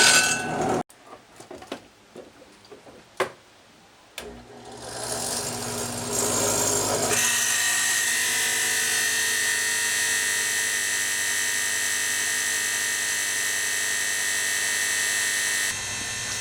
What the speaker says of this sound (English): we're attempting to drill press this steel plate